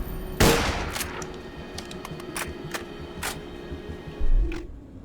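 A scoped sniper rifle in Borderlands 2 fires a rapid burst of sharp electronic shots in quick succession, followed by scattered game clicks and a second heavier thump near the end, with no talking over it.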